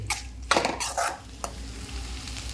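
Okra frying in a pan, a soft sizzle under close scraping strokes of a spatula against metal, a few quick stirs then steadier frying.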